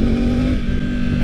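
The three-cylinder engine of a 2024 Triumph Tiger 900 Rally Pro motorcycle revs loudly and close by, a steady buzzing drone held briefly without pause.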